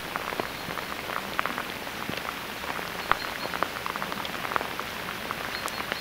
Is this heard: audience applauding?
no